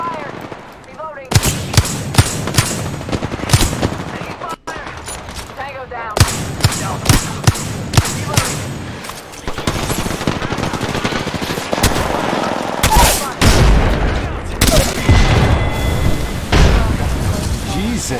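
Rapid automatic gunfire and single shots from Apex Legends gameplay, loud and near, in dense bursts with brief pauses, mixed with booming impacts and in-game effects throughout.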